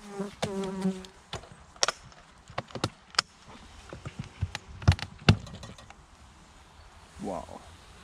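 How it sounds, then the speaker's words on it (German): Honey bees buzz in short bursts during a winter inspection of a single-box hive, mixed with sharp clicks, knocks and handling noises from the hive at close range. "das ist doch mal ein richtig tolles Bienenvolk"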